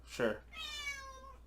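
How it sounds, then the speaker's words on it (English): A cat meows indoors: one short, faint cry followed by a longer, drawn-out, rising-and-falling meow, quiet and close in a room. "we have a cat in the room"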